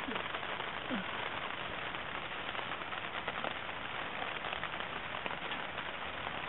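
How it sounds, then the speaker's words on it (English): Steady rain falls beside the Karluk River at an excavation site, a dense, even patter on surfaces that continues without a break, with no talk over it. "It's raining again."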